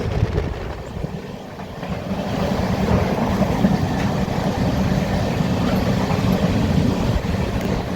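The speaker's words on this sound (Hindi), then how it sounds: "ट्रेन का सफ़र" An Indian Railways train travels through Punjab farmland near Rajpura, giving a steady, loud interior rumble with a low rolling rattle that continues throughout, with no talk.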